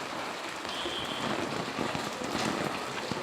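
Steady monsoon rain pattering on a town street in Manikganj, Bangladesh, a dense even hiss with scattered drops, alone with no voices.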